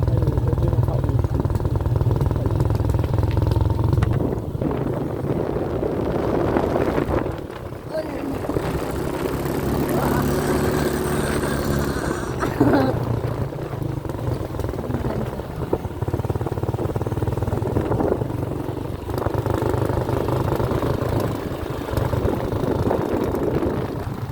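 A motorcycle engine labors nearby climbing uphill and failing to make it, its rough drone rising and falling as it revs and strains, with brief dips and voices faintly underneath.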